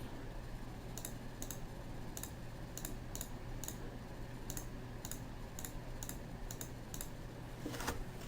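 Steady mouse clicks while editing in Photoshop, sharp single and double clicks spaced roughly every half second over faint background hum, with no talking.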